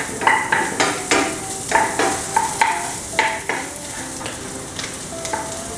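Red onion sautéing in a pan with a soft steady sizzle, punctuated by a rhythmic series of metallic scrapes and clinks from a utensil stirring against the pan, close and clear with no talking.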